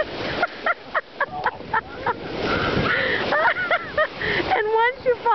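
Ocean waves break and wash onto a beach in a steady, loud surging roar, with people talking and shouting over the surf throughout.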